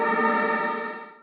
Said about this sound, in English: You've created a riser that sounds something like this.